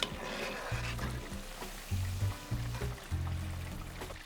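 Samosas dropped into hot oil at 350 degrees, a soft, steady sizzle and bubbling with low intermittent clunks of handling underneath.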